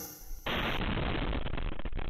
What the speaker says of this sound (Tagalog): mali ang tansya sa lakas ng magiging pagsabog ng mga nakumpiskang paputok